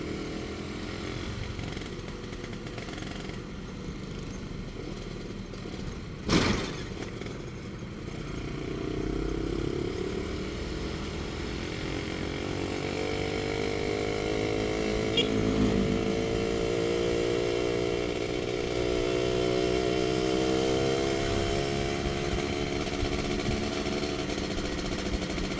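Suzuki Satria R120 motorcycle fitted with an Andyspeed aftermarket exhaust, engine idling then revving with a sharp blip and a long rising, pulling tone as it accelerates, recorded close and fairly loud.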